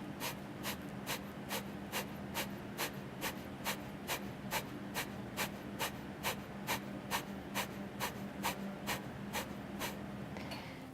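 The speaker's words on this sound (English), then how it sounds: "So breath of fire looks this way." Rapid breath-of-fire yoga breathing during a chair yoga practice: about two dozen sharp, forceful exhalations pumped from the belly in a steady quick rhythm, close and evenly spaced over a low background hum.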